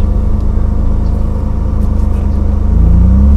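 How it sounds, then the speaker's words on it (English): A car rolls along a narrow waterside street in Samut Prakan, Thailand, its low engine rumble close and steady, then swelling deeper as it draws nearer at the end. No one speaks. "I'm gonna stop here so that car pass."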